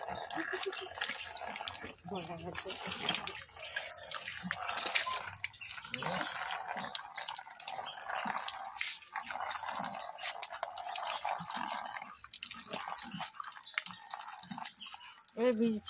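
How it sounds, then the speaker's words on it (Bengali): Banana leaves being washed by hand with water, splashing, dripping and rubbing sounds close by and moderate, with people talking intermittently over the water. "পাতাগুলো ভালো করে একটু ধুয়ে নিচ্ছি"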